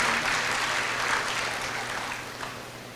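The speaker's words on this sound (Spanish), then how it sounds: "Oiga, dele fuerte el aplauso al Señor." Applause from a church congregation, a steady dense clapping wash that holds for the full few seconds and slowly thins toward the end.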